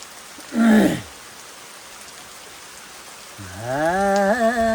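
Rain falling outside a rock cave shelter in a Nepali village at the start of the monsoon, a steady soft hiss running throughout, while people talk and sing nearby.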